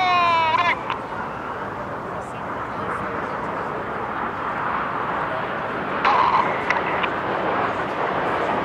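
Red Arrows jets in an aerobatic air display at the Festival of Speed, a steady broad jet roar filling the air throughout, with a commentator's voice and public-address tones over it.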